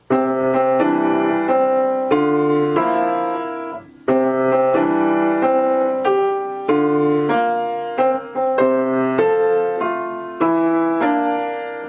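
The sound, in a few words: piano playing broken chord waltz pattern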